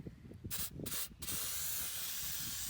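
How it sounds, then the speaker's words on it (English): An aerosol can of Tyre Shine sprays onto an old Victa two-stroke lawn mower, first in three short hissing bursts, then in one longer, steady spray, close and fairly quiet. "Let's give the Victa a bit of a spray with this and see how she comes up."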